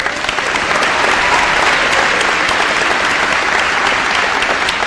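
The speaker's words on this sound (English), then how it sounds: "just want to ask for one quick round of applause" An audience at Rock Ridge High School's grand opening claps in sustained, dense applause, loud and steady for several seconds with no talking over it.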